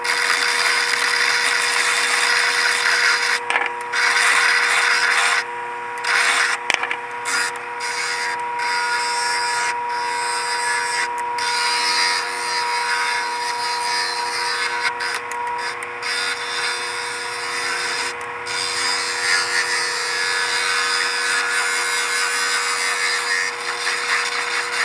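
A round piece of wood is shaped into a fishing lure on a loud, continuous power tool, its steady grinding hum and abrasive rasp close by and sustained throughout, briefly dipping at moments, with no talking.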